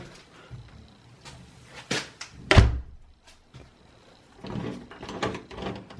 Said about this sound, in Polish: No to zamykamy drzwi.